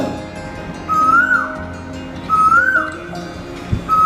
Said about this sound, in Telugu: మొదటగా కోకిల